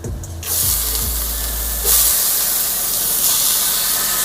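Peppers go into a hot pan for a vegan jackfruit cheesesteak, bringing a sudden loud hiss and steamy sizzle with a low rumble at the start that keeps going steadily for several seconds with no talking.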